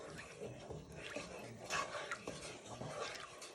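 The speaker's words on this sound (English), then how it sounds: "And now you just want to give this a good stir" A spoon scrapes and clinks around a pan while stirring milk into a creamy mustard chicken sauce, soft irregular metallic taps and swishes at close range, faint and without speech.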